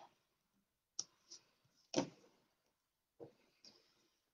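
Scissors trimming paper craft pieces for a spinner card: a few sharp, separate snips and clicks spaced across a few seconds with quiet gaps between, close and fairly soft, with no talking.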